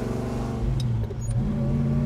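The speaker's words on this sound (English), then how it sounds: "Listen to that exhaust," A 1971 Chevrolet Chevelle SS rumbles with a deep, steady exhaust note, revving up loudly and close by with a brief dip in the middle, no talk over it.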